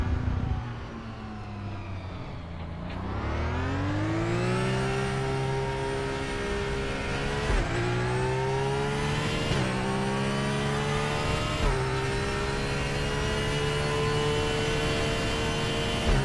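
A race car engine pulls under load on track in a racing sim, in RaceRoom or Project Motor Racing, droning loud and close as revs climb and dip through several gear shifts, with no talk.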